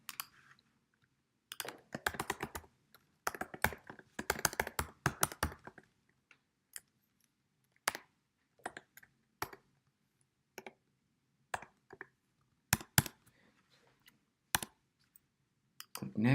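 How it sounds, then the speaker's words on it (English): Clusters of computer keyboard keystrokes as a name and birth date are entered into a client survey form, with bursts of rapid typing separated by pauses and single isolated key taps, close and clear against a quiet room. "we have to enter Jeremiah Johnson's name exactly and birth date as we see it here"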